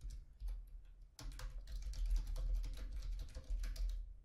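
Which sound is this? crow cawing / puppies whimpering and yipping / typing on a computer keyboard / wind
typing on a computer keyboard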